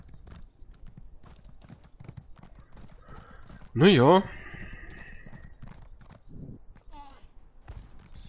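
Horse hooves clopping in Elder Scrolls Online, with a mount's loud whinny in the middle and soft hoofbeats around it, while players chat in the background.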